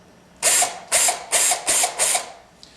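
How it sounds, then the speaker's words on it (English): A power drill whirs in five short, loud bursts with brief pauses between, each a high-pitched grinding spin drilling out plastic rivets on a Mercedes 300D instrument cluster, close by. "I'm going to drill out these two holes."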